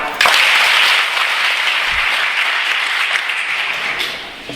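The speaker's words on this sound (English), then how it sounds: "When I lift my hand, you should clap." Schoolchildren at Kasthurba school in Kannur burst into loud, sustained group clapping on their teacher's hand signal, a dense even roar of many hands that holds steady for several seconds, then tapers slightly.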